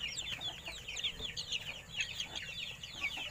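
Several Philippine Peru Sweater game chickens cluck and chatter nearby in quick, uneven bursts, fairly soft, with no talking.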